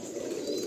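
Madrasi pigeons coo in a soft, steady, low rumbling murmur, close by and continuous for a brief moment.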